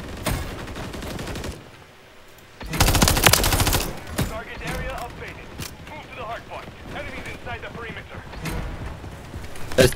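Gunfire from Call of Duty MW3 with rapid automatic bursts and a dense crackling volley, loud and close amid game effects and people talking.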